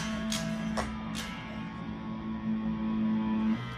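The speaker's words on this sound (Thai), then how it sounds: "ต่อมานะครับเป็นเสียงแตกดิทอชั่นนะ" A quiet distorted note on a Korean-made Photogenic Stratocaster electric guitar holds steadily, with a couple of soft picked attacks near the start and a gritty, humming tone throughout.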